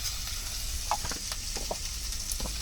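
Chopped onion frying in chicken curry over a village wood-fire stove, a steady close sizzle and crackle broken by a few brief clicks and stirring scrapes, with no voices.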